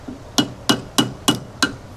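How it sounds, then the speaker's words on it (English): A hammer strikes a rusty, corroded prop pin on the shaft of a jon boat five times in an even rhythm, each blow a sharp close metallic clank. "Looks like I'm going to need a bigger hammer."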